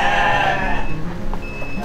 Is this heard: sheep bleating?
yes